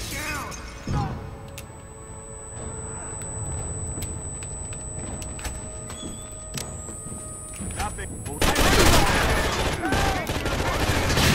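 Gunfire rattles in the co-op shooter game Rainbow Six: Vegas, with scattered sharp shots and bursts that swell into a loud, dense volley near the end, alongside other game sounds.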